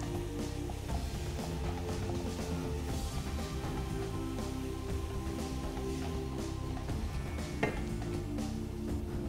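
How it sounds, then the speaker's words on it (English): Paneer being stirred with chilies, salt, coriander powder and garam masala in a pan for chilli paneer, a steady sizzle with continuous scraping and clinking of a utensil against the pan, close and fairly loud, with no talking. "And mix it well."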